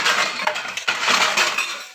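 A metal plate clatters and scrapes onto a pot of freshly boiled milk, a close, bright jangle of clinks and rattles lasting about two seconds before trailing off.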